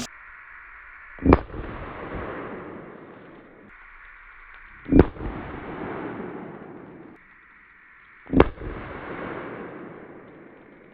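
Three loud gunshots from .500 Magnum and .22LR guns ring out at an outdoor shooting range, spaced a few seconds apart, each a sharp crack followed by a rolling echo tail.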